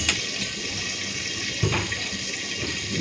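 Running tap water pours steadily over cut eggplant pieces being rinsed, a constant close splashing wash with a brief louder splash partway through.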